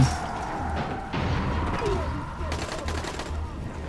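Gunfire in the video game Dying Light comes as rapid bursts and crackling shots over a dense, busy game soundscape, with the shooting continuing throughout.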